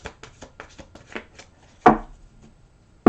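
A deck of tarot cards is shuffled by hand in a series of soft riffling bursts, then two louder, sharper card snaps stand out, with no talking.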